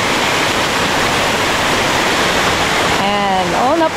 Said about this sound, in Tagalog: Hot spring.